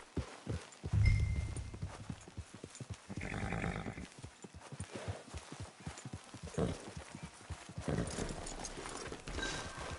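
Horse hooves clip-clop in Red Dead Redemption 2, a steady walking rhythm of close, distinct hoof strikes with an occasional neigh, set against game ambience and no speech.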